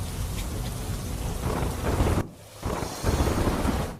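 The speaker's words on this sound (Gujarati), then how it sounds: "પોરબંદરના અનેક વિસ્તારોમાં વરસાદ વરસતા રસ્તાઓ પર પાણી ભરાયાના આ દ્રશ્યો સામે આવ્યા" Heavy rain pours down hard with a loud roar on waterlogged streets in Porbandar, cutting out briefly before resuming at full strength.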